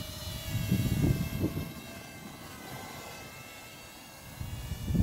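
A small Ryze Tello quadcopter drone hovers and flies, giving a faint steady high-pitched whining buzz with low rumbling swells, nearby and without speech.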